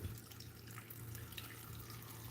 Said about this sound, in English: she's filling little baggies with water